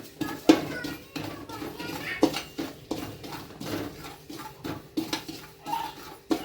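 Poppy seeds are being dry-roasted in a pan while stirred, producing light repeated scraping and clinking of a utensil against metal in an uneven rhythm, close and moderately quiet, with faint voices in the background.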